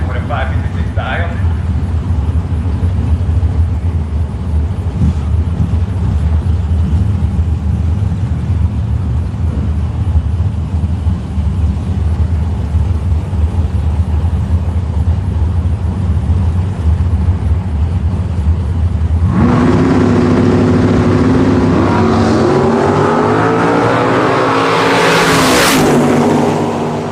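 Drag race cars, a 1995 Cutlass and a 1974 Vega wagon, rumble in a loud, steady engine drone that keeps going throughout, with a rougher, revving change near the end, while voices talk over it.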